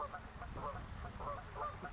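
Geese honking in a faint, distant chorus of repeated calls over soft outdoor ambience.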